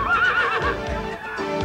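A horse neighs loudly at a rodeo, a long wavering whinny up close, with hoof clatter and arena noise underneath.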